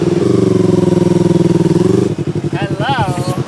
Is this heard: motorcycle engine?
yes